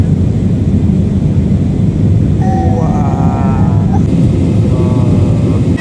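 Steady loud engine roar fills the cabin at the rear of a passenger airplane, with a faint chime-like tone and some murmured voices over the constant drone.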